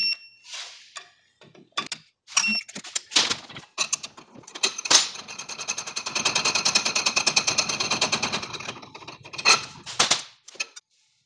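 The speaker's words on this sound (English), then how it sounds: "I'm torquing these down to 10 foot-pounds" A torque wrench tightens bolts to 10 foot-pounds on a Can-Am X3 during a power package install, giving bursts of rapid ratcheting clicks with a long sustained run in the middle and short clicks around it.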